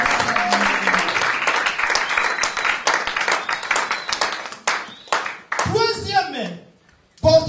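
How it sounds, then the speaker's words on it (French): A church congregation bursts into sustained applause and cheering during a sermon, dense clapping filling the room for several seconds before a preacher's voice resumes speaking. "Est-ce qu'on peut acclamer plus fort que ça?"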